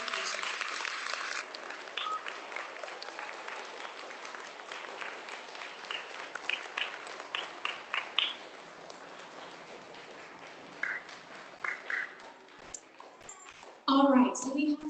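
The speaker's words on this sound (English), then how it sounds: "let's give Ms. Haley a big round of applause" Audience applause rings out for a retiring teacher at a third grade school awards ceremony, a sustained round of clapping that thins toward the end, with a brief louder burst of handling noise at the close.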